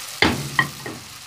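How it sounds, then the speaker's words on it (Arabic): Chicken fries in a pan while being turned, giving three quick scraping knocks of a utensil over a low sizzle in a brief, close burst. "هبدا انزل الفراخ وهبدا اقلب"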